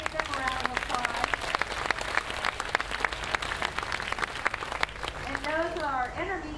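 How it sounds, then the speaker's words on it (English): An audience at a community band summer concert applauds for beginner students, steady clapping with distinct individual hand claps throughout, and a voice speaks over it near the end. "Give them a round of applause."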